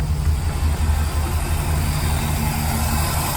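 A car engine idles steadily throughout, a close, continuous low rumble with no speech over it; the car has been freshly painted and is still awaiting engine work.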